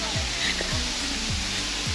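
Waterfall at Tham Yai cave on Phu Kradueng, a steady, dense rushing roar close by that never lets up, with a few soft low thuds under it.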